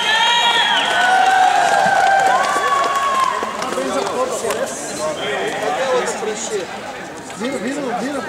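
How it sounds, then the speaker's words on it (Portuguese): A crowd at a youth running race, the 32nd Corrida Santo Onofrinha, breaks into steady applause and cheering for the 12-to-13-year-old boys' category, with a PA voice and crowd chatter mixed in throughout. "vamos aplaudir os meninos aí da categoria 12 e 13 anos"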